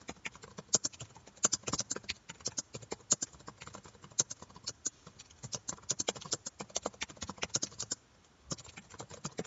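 Fingers type on a computer keyboard while an inventory item is entered, sending out quick, uneven runs of close key clicks with short pauses and a brief lull near the end.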